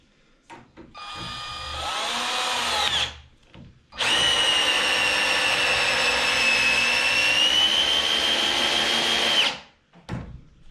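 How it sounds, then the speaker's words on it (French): 18V impact drill driving a 6x120 mm Torx screw into wood, two loud sustained whirring runs, a short burst then a longer steady one, each ending abruptly. "On va faire du vissage dans du bois"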